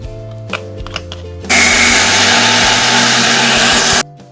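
A countertop blender purees bananas, spinach, mixed berries and orange juice into a smoothie, starting after a few low thumps with a loud steady whirring roar for about two and a half seconds before cutting off abruptly.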